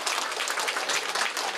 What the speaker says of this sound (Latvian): aplausi Artim